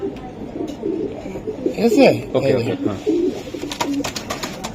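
Racing pigeons coo in low, rolling bursts close by, repeated throughout while someone talks over them in short phrases.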